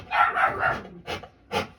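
A tired working dog gives a quick burst of three loud barks, then two more single barks after short pauses, all close and clear.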